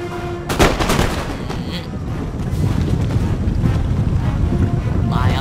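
Musket volleys and artillery fire from a battle in the strategy game Empire: Total War, loud sharp blasts over a continuous rumbling, windy bed, with faint speech underneath.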